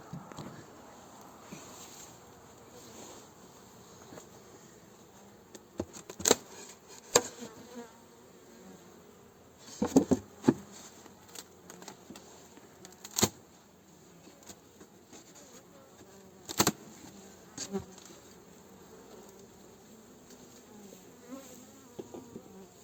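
Honeybees buzz around a very small hive colony outdoors, a steady close hum of many wings with occasional louder passes of individual bees flying near the microphone, and faint background noise between them.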